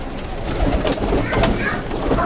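Pigeons cooing close by in soft, throaty repeated calls over a low rumbling background.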